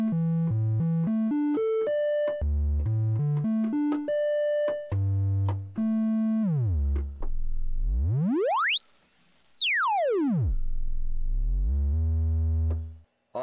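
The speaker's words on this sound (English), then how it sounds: "Oscillator 2, triangle wave." An ARP 2600 synthesizer's second oscillator, set to a triangle wave, plays a quick run of short stepped notes, then a smooth tone sweeps way up and back down before settling low.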